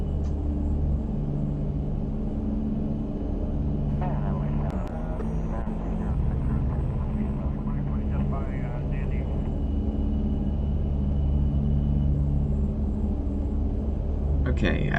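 A Beechcraft King Air 90 in X-Plane Mobile rolls out on the runway after landing with brakes and thrust reversers on, giving a steady, loud low engine and rolling rumble throughout with a few brief clicks.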